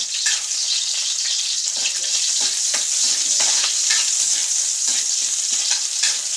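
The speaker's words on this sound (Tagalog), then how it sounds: "Unang lalagay ay bawang. Sunod, sibuyas." Garlic and onion sizzle in hot oil for adobong paa, a steady, close, bright frying hiss with a few soft stirring clatters and no talk.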